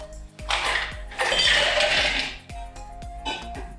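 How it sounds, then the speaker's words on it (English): Ice cubes clatter and clink into a metal Boston shaker while a Boulevardier cocktail with Martini Rosso sweet vermouth is built, a loud rattling tumble of several cubes with sharp knocks, heard close and alone. "Add some ice."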